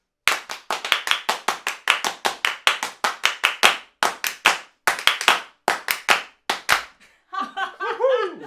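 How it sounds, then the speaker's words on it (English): Hands clapping a steady rhythm during a string quartet rehearsal of Beethoven's Op. 59 No. 1, crisp close claps in quick even groups with short pauses, then a burst of laughter at the end. "I'm clapping a bit too loud"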